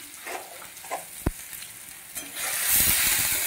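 Salt, turmeric, chilli, coriander and cumin powders with a little sugar being stirred in a frying pan for a spinach dish: a few scrapes and one sharp knock, then a louder, steady sizzle.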